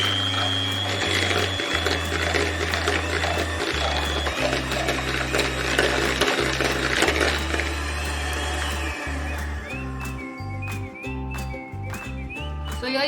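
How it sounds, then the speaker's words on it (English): Blender whirring through cream cheese, mayonnaise and garlic filling in bursts of varying speed, a close, loud motor drone with short pauses and a squeaky, strained tone as the thick mixture churns. "So now we will blend this all together until nice and creamy."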